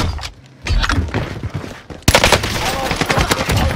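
Gunfire in the video game Call of Duty Warzone: loud, close rapid bursts and sustained automatic fire crackle throughout, briefly dropping before an even heavier barrage, with in-game voice callouts mixed in.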